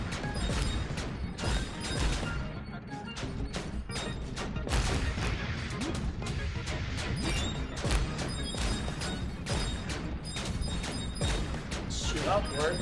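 Tank cannon fire and crashing destruction in the video game Kirby's Epic Yarn, a steady barrage of repeated shots and smashing impacts over game music, with a player talking throughout.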